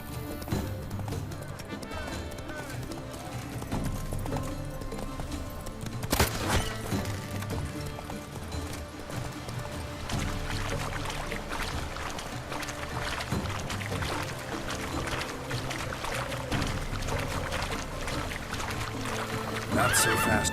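Hooves of the horse Roach clip-clop steadily in The Witcher 3, with a whinny partway through, all under continuous game music and some voices.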